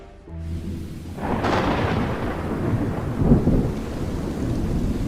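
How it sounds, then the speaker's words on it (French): A violent thunderstorm breaks suddenly in late afternoon: a deep rolling thunder rumble swells and sustains under steady loud rain, with a sharper crack midway, no voices. "En fin d'après-midi, un violent orage apparaît soudainement."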